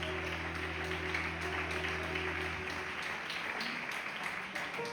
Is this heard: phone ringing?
no